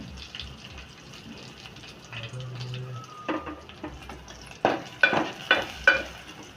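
Garlic fries in oil in a pan as a quarter spoon of asafoetida goes in, a soft steady sizzle followed by several sharp stirring scrapes and clinks near the end.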